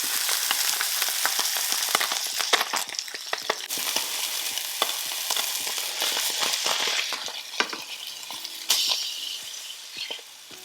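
Mutton snapper fillets fry in a hot pan for a crisp golden underside, a steady close sizzle dotted with sharp oil pops and crackles that holds evenly at a moderate level throughout, with no talking.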